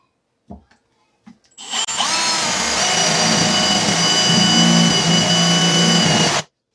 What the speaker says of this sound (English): So I have my spade bit on